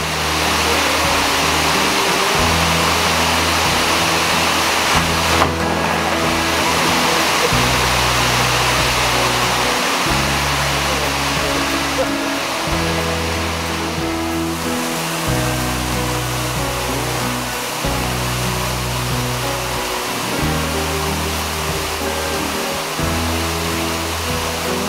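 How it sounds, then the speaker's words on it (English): Tiffany Falls, a 21-meter-high waterfall, roars as a loud, constant rush of water heard alone, with a low rhythmic throbbing running underneath. "Tiffany Falls is a 21-meter high waterfall"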